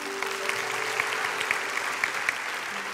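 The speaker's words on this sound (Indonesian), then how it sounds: "kasih tepuk tangan untuk Roh Kudus." A church congregation at a sermon claps in steady, dense applause. A few sharper claps stand out at a regular rhythm over the broad wash of hands, with a faint background tone underneath.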